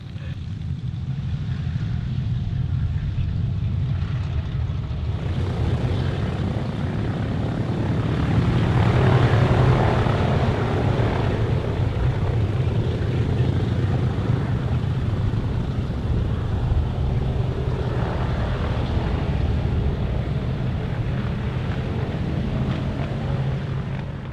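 The propeller engines of a Boeing B-29 bomber drone steadily in flight, a loud, continuous low rumble that swells slightly midway and persists throughout with no talk.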